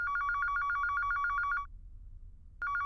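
A telephone rings with a rapid, repeating electronic trill that stops after about a second and a half, then starts again briefly after a short quiet gap, heard alone against faint room hum.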